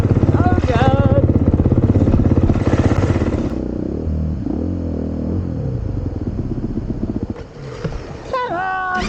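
A Honda CRF 450 RX set up as a rally motorcycle runs up close on a tight, slippery trail, its engine chugging and revving unevenly with clatter, and the rider's voice breaking in at times.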